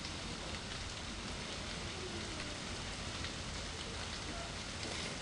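Heavy monsoon rain falls steadily in Gujarat, a dense unbroken hiss of drops striking surfaces, loud and constant with no voices.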